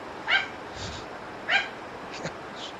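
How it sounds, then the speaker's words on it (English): A dog barks twice at a moderate distance, two short, sharp yaps about a second apart over a steady low hum, followed by a fainter third yelp. "Scared me half to death, that dumb dog."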